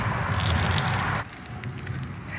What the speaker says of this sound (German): Es spritzt und dampft. Es ist heiß. Das ist Nudelwasser.